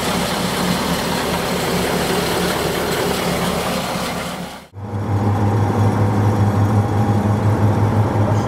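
A Ural truck drives along with its engine running, a steady, loud low drone that is briefly interrupted by a short dip, then resumes with a stronger low hum. No one speaks.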